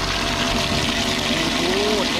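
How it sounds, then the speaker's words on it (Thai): Small electric water pump circulating water like a fish-tank aerator, run from a 140-watt amorphous solar panel; a steady close gurgling, trickling flow runs throughout without a break. "ปั๊บตัวนี้ไปทำเป็นเหมือนออกซิเจนปลานะครับไหลเวียน"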